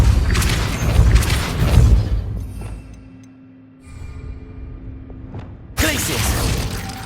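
A Depulso spell cast in Hogwarts Legacy, a loud burst of booming, crashing game effects that fades into quieter ringing tones before another heavy blast hits near the end.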